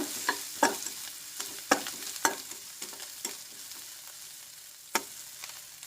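A spatula stirs turmeric into a roasting mixture in a hot pan, with a soft sizzle underneath and a series of crisp scrapes and taps, fairly close and spaced irregularly.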